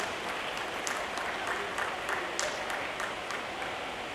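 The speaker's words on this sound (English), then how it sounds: "Can you please have huge round of applause for them?" Faint, distant applause from a crowd at the Mumbai International Motor Show 2017 launch event, a steady wash of clapping that holds evenly throughout.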